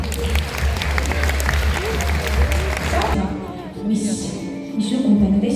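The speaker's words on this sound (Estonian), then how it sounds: "siis teeme ühe suure aplausi sulle" A hall audience at the Kungla hobby centre in Valga claps loudly for about three seconds, a thick wash of hands, before it gives way to quieter, murmuring room sound.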